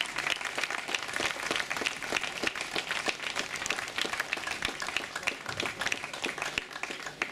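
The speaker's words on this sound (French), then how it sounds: "avec les applaudissements encore à Elisa Longo Borghini" Crowd applause at a stage finish ceremony of the 2014 Tour de Bretagne Féminin women's cycling race, a steady dense patter of clapping sustained for several seconds with faint voices mixed in.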